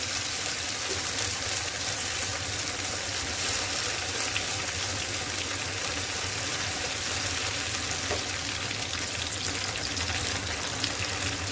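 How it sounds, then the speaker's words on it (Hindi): Chilli and garlic frying in a pan as water goes in, giving a steady loud sizzle and bubbling hiss that runs unbroken throughout with no voices. "अब इसमें मैं थोड़ा सा पानी ऐड करूँगी।"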